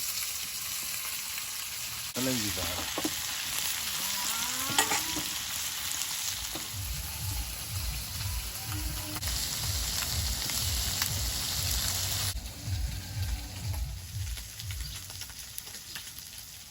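Fish frying in hot oil in a frying pan, a steady crackling sizzle throughout, with brief clatters as the pieces go in and stirring or scraping sounds midway; a brief word of speech is heard.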